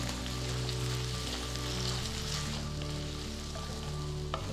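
Ginger garlic paste sizzles steadily in a hot pan while cooking potato and pea kurma, a constant crackling fry over a low hum, with no talking.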